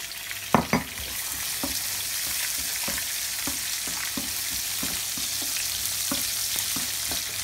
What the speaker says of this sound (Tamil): வந்து முந்திரி பருப்பு நல்லா வறுபட்டுருச்சு.